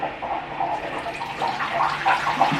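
Developer liquid pours steadily out of a color film developing tank into a container, a continuous splashing trickle with a watery, bubbling texture lasting a couple of seconds.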